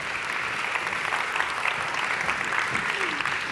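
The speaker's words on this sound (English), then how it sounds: "Please give a warm round of applause to Bren Smith." Audience applause at a regenerative agriculture conference session, an even, sustained patter of many hands clapping, moderately loud and steady throughout, with a faint voice briefly underneath near the end.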